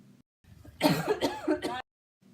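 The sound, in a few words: dry hacking cough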